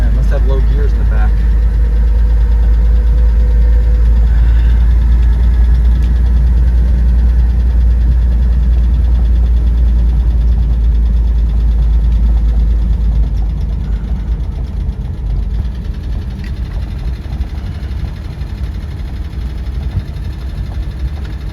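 A 1948 Chevy Fleetline Woodie engine drones loudly and steadily from inside the car as it drives in low gear, with a deep constant rumble and some knocking vibration, while someone talks over it.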